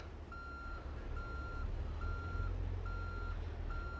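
Steady reversing beeps from a tractor-trailer backing up in American Truck Simulator, evenly spaced high pulses over a low diesel engine rumble, no talk.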